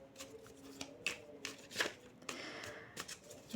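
Tarot cards being shuffled by hand in short, quick riffling bursts, close and fairly soft, with brief pauses between the flurries of card noise.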